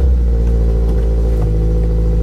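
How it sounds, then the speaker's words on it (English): A 2022 Subaru BRZ engine on cold start, a loud steady low idle rumble with a faint mechanical clatter, heard close without talk. "Okay, cold start."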